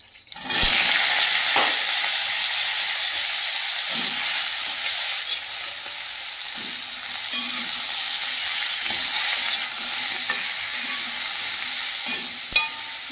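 Chopped vegetables hit hot oil tempered with panch phoron after fried lentil dumplings come out of the pan, giving a loud, steady sizzle with occasional stirring scrapes and no talking.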